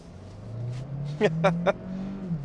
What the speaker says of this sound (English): We'll go ahead and wait for this car to pass and do full throttle.